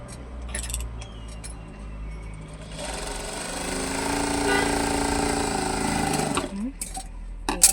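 A sewing machine stitching a joint in dress fabric at the neckline, starting after a few light handling clicks, then running in a steady close rapid whir for several seconds before stopping with small clatters.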